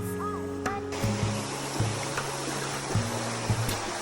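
A clear rural river flows with a steady broadband wash of running water, continuous and fairly close, with a few brief knocks and faint tonal sounds over it.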